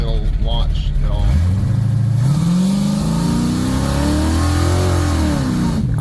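A Ford LTD LX Fox-body sedan with badly leaking exhaust revs hard from a standstill launch, its engine note climbing and swelling loud and close while the tires spin, with voices audible inside.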